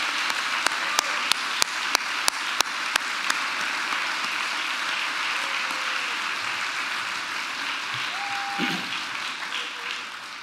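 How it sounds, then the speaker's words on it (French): At a Quebec Liberal Party general council, the audience gives a team a warm round of applause: a few sharp individual claps at first, then a steady wash of clapping. "je vous demanderais qu'on applaudisse fortement l'équipe Sylvain et José"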